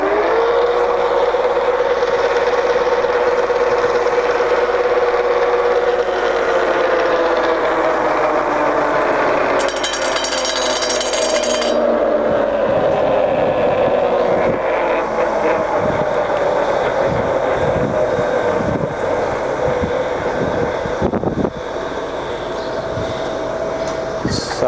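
An old Mitchell 5100mm B/C lathe's main motor whines steadily, then slowly falls in pitch as it winds down, followed by scattered clunks and knocks from the machine.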